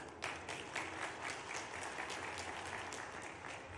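Steady, dense applause from a crowd at a public government program and fair gathering, continuing unbroken at an even level throughout with no talk over it.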